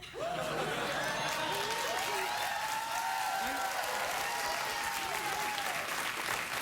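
Studio audience at a late-night talk show applauding steadily, a dense, sustained wash of clapping with a few cheers and a voice speaking over it.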